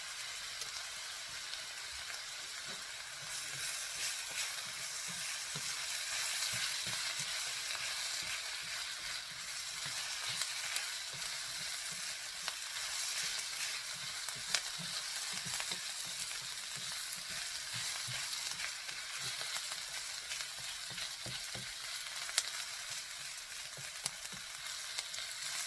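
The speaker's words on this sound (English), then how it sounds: "after that I'm gonna add my rice, and then I'm gonna add my peas and carrots." Rice with peas and carrots fries steadily in a pan, giving a continuous bright sizzle with occasional crackles and stirring clicks throughout, with no talking.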